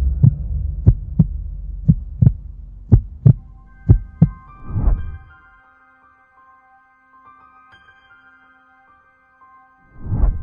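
Heartbeat sound effect: a series of loud, evenly spaced low thumps in quick succession, followed by a swelling whoosh and then a held tonal hum, with another whoosh rising at the end.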